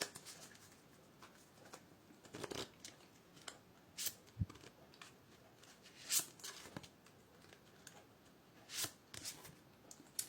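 Tarot cards shuffled by hand for a reading, giving repeated soft riffling and slapping bursts at an irregular rhythm, close and fairly quiet, with no talking.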